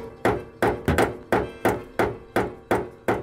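Hammering a castle nut against the tie rod stud while installing a Nissan 240SX angle kit, eight loud, close metallic thunks in a steady rhythm about every 0.4 seconds, with no talk.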